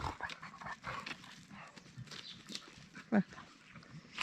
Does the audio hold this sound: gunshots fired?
no